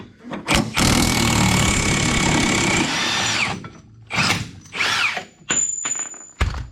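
Impact wrench or drill whirs loudly for about three seconds while removing the final bolt holding the cab onto a 7-ton truck frame, followed by several short, sharp bursts and metallic clicks.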